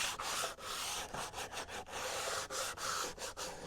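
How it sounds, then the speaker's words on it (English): 120-grit sandpaper rubs back and forth by hand along the edge of a wooden end-grain cutting board, a close, continuous raspy scraping in rhythmic strokes with no speech. "I like to just break the edge. Piece of sandpaper. This is 120."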